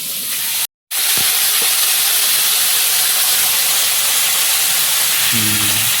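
Food frying in hot oil in a home kitchen pan, a steady loud hiss and sizzle throughout, briefly cut off near the start, with a faint voice near the end.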